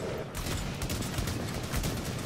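Rapid, dense gunfire from a shooter video game, The Division, rattles continuously and loudly through the whole brief moment, sounding close and sustained with no gaps.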